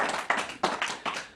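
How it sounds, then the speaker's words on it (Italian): A few people give a short burst of clapping during an Italian talk show, with uneven claps in clustered bursts, close and fairly quiet. "Roberto, comunque un applauso"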